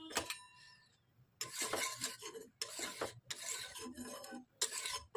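Oil being spread across a hot cast-iron tawa while making dosa, with repeated raspy rubbing strokes in short bursts separated by brief pauses, close and fairly quiet.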